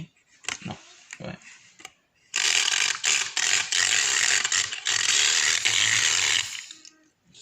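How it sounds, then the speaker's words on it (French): Melted wax being whisked together with oil: a few short knocks and scrapes, then a loud, steady, close whirring churn for about four seconds that stops abruptly. "Tu prends le fouet, ma grande. Et donc ce qu'il faut faire, c'est mélanger la cire avec l'huile."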